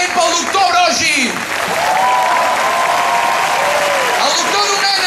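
Loud, sustained applause from a large crowd honouring Doctor Brogi at a memorial gathering for Heribert Barrera, filling the whole stretch with dense clapping, while a voice speaks over it at the start and end.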